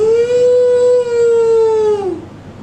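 A single long, drawn-out cow moo holds steady, then sags and trails off at the end, with no other sounds around it.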